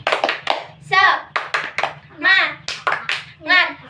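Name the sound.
group doing the 'tepuk semangat' clapping chant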